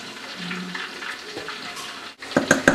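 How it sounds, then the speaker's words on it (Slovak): Cold tap water runs steadily over homemade noodles as they are rinsed for Sunday chicken soup. The pouring is soft and continuous, then louder splashes and clatter come near the end. "Potom sa oplachujú studenou vodou."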